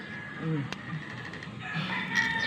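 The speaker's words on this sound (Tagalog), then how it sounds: "May manok pa oh." A chicken crows nearby and clucks softly, with faint outdoor background noise of a mountain home and a brief click.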